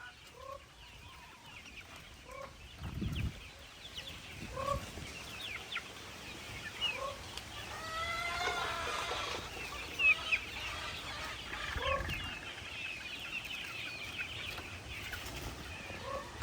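Chickens on a farm cluck in scattered, fairly faint bursts at harvest time, with one longer drawn-out call partway through over a soft outdoor background.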